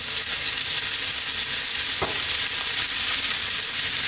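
Frozen peas hitting a pan of sizzling crispy bacon, a loud, constant hiss of frying with one brief thump as they drop in, and no talking.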